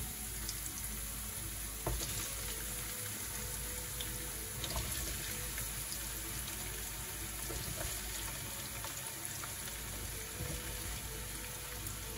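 Sliced zucchini frying in a pan that already holds fresh garlic, a steady crackling sizzle with scattered pops and light stirring. The sound stays fairly constant and moderate throughout, with no talk.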